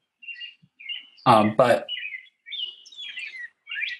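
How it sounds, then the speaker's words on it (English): Birds chirp in short bright tweets and trills scattered through the quiet, with a brief burst of speech in the middle. "I hear a bird chirping."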